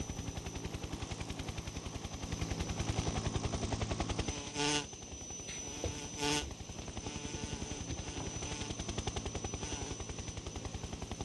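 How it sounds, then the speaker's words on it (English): Insect buzzing from bees and hornets in Metal Gear Solid 3 HD Edition, a steady, loud droning hum that runs throughout, briefly broken twice by short bursts of other game sound. "I really hate the sound of bees or like buzzing like that"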